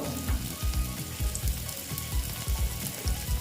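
Ground spices, coriander and cumin powder, sizzling in hot oil for a chal kumro curry: a constant crackling fry under a quick series of soft scraping stirs and taps, fairly close and moderately loud.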